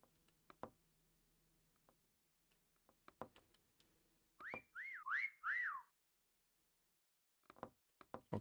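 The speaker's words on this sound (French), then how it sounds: "sifflement dans 9 secondes, on va bien voir." A short run of bright, warbling electronic whistle tones in the video game Meccha Cameleon, four quick rising-falling chirps, set between scattered soft clicks and taps in an otherwise quiet background.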